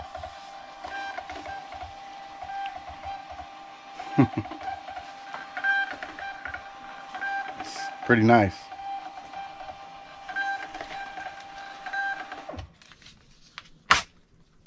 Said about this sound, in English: Printing all the labels off at one time.